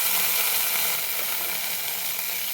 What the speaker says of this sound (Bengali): এই বাটারে জাস্ট একটু হালকা করে ফ্রাই করে নেব কর্নটা